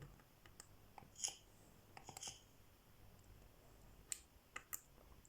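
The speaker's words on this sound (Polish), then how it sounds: "Klikamy znowu trzy razy i nic się dzieje." Faint, sharp plastic clicks from the button on a vape device come in small irregular bursts. Several quick presses land close together against a quiet indoor background.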